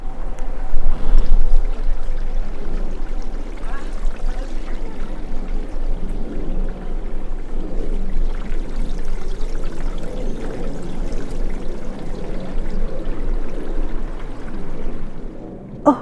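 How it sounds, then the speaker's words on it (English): A creek flows steadily in a very quiet forest, giving a soft, continuous watery rush and trickle with no talking, and a faint low hum of distant traffic underneath. "if I stop talking completely and there's just the creek"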